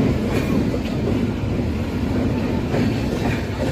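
Antyodaya Superfast Express running between Chennai and Vijayawada, a steady loud rumble of wheels on track with faint rhythmic clatter, continuous throughout with no talking.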